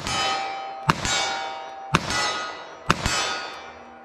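A revolver fires .44 Special hardcast wadcutter rounds in four sharp reports, the last two close together, each followed by a long, bright metallic ringing that fades slowly.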